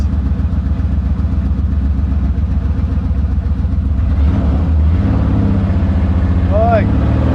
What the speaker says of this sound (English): An original 917 with a flat 12 in it, but nevertheless, it's a road car.